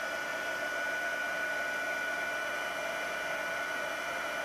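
A heat tool melting embossing powder for a stamped card blows a steady, loud, unbroken hiss and whir throughout, with no speech.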